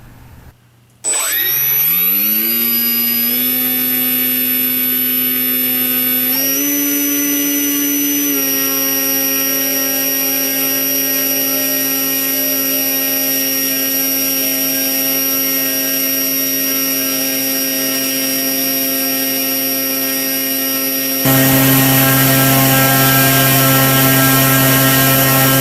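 An RC fixed-wing aircraft's electric motor spools up from silence to a steady high-pitched whine, rising in steps and then holding loud and close near 10 amps, with a shift in tone near the end.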